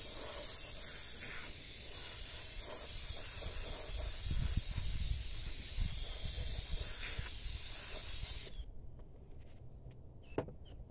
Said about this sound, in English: We're gonna spray it out one more again.